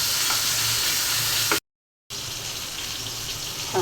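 Pangas fish pieces crisp-frying in hot oil give a steady, close broadband sizzle, broken by a brief silent gap midway before the sizzling resumes.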